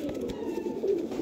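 A golden pigeon gives a short, low, throaty coo up close, a single soft rolling call over faint background noise.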